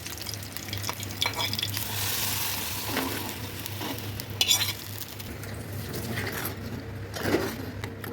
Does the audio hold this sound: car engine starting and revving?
no